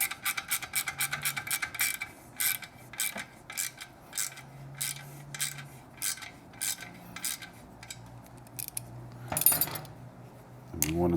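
A 10mm socket wrench ratchets rapidly to tighten a shock clamp on a Triumph Street motorcycle, giving crisp metallic clicking in repeated bursts with brief pauses, close and clear.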